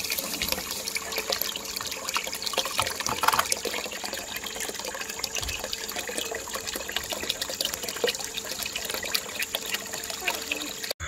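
Water sloshes and trickles steadily as beach sand is panned for gold on a West Virginia beach, a continuous close wet swirling that runs the whole time with no talk.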